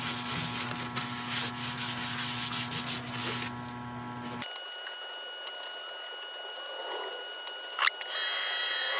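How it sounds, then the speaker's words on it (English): A rag buffs cellulose sealer into a turned wooden piece on the lathe, giving a steady rubbing, sanding-like friction sound. The sound shifts abruptly halfway through to a thinner, quieter whir. "We don't need to let this dry, we can buff it in"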